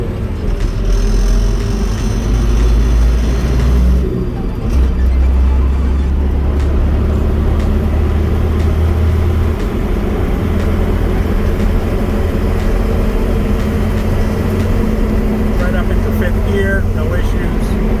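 A 1982 Datsun 720 4x4 pickup on mud terrain tires cruises steadily, its loud low engine and road drone with tire hum rolling continuously from the cab.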